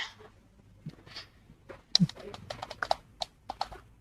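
Close keystrokes on a computer keyboard while text is typed into a Word document come in an uneven run of quick clicks that grows busier after the first couple of seconds, with a faint murmur before the burst.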